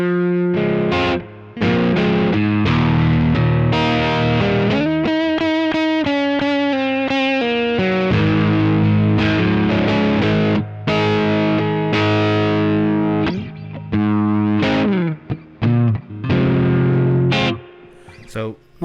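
An SX 335-copy semi-hollow electric guitar with both pickups on plays a busy run of distorted chords and notes through effects, loud and close, with brief pauses near the end.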